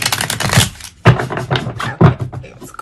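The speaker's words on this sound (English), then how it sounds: "Just gonna shuffle one more time so we can get a good clean reading." Tarot cards being shuffled by hand for a reading, giving three sharp riffling bursts roughly a second apart, each fading into softer ruffling, close and fairly loud with no talk.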